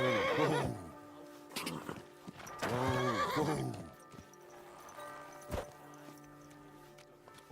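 A horse whinnies in several loud, drawn-out neighs, with hooves clip-clopping at close range between them. Voices speak in short bursts around the sounds.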